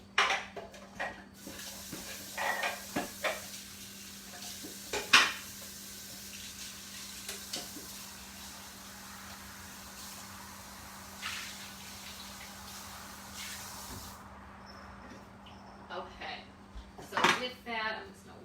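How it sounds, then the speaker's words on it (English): Clattering of a container and dishes being washed at a kitchen sink, with knocks and clinks scattered through a running-water hiss and a steady hum underneath, plus bits of quiet talk. "I'm just going to wipe down the counter, wash this out really quick."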